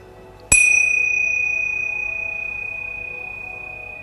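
One clear, close Tibetan bell tone is struck and left to resonate, a steady shimmering ring that decays gently without any other sound.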